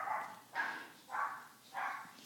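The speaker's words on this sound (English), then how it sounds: "don't mind the barking of the pug" A pug barks four times in an even rhythm, each bark short and fairly loud with a brief pause between, close by in a quiet indoor room.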